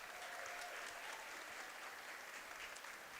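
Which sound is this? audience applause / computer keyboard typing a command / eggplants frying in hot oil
audience applause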